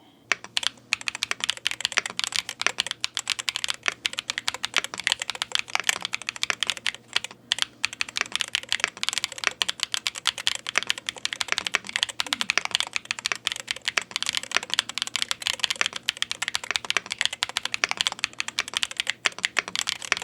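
Continuous rapid typing on an ACE68 mechanical gaming keyboard, dense clacky keystrokes with brief pauses, close and steady throughout with no talking.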